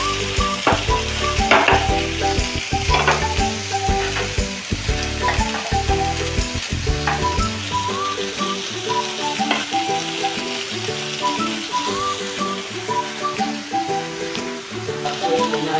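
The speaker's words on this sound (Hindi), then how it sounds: "टमाटो को टिके भाजिया छाड़िबा।" Tomatoes fry in a hot pan for an Odia suji appam chutney, a loud continuous sizzle with frequent stirring scrapes and clinks throughout, steady and close with no voices.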